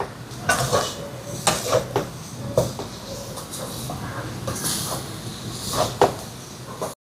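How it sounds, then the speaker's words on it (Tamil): Country sugar being stirred into a kolukattai mixture in a pan, with repeated metallic spoon knocks and scrapes against the pan in an irregular rhythm over a soft background hiss. "சேர்த்துட்டு இதையும் கலந்து விடுவோம்"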